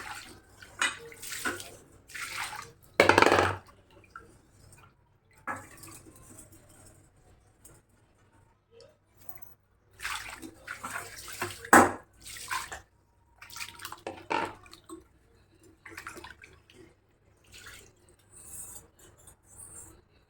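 A new iron kadai is washed with water in bursts of splashing and rinsing, some bouts louder and close, separated by quiet gaps, with no talk.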